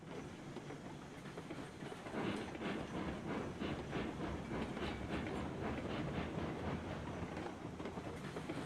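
A train rolls along the track in the Railroads Online game, a steady, faint rumble with a regular clickety-clack of wheels and a soft hiss, heard alone without any voices.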